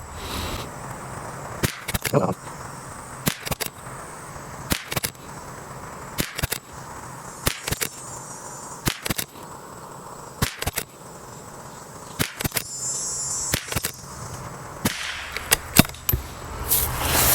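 A rifle fires Aguila bulk .22LR ammunition, with about fifteen sharp, sudden cracks spaced roughly a second apart, loud and close over steady outdoor background noise.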